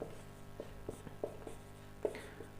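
Marker or chalk writing on a board during a Hindi maths lesson, a series of soft scratchy strokes and taps spaced irregularly, close and fairly quiet.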